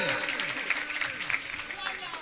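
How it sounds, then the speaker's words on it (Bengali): An audience at a village gift presentation claps steadily at moderate volume while a voice keeps talking over the applause. "জোরে হাততালি হবে, জোরে জোরে জোরে জোরে"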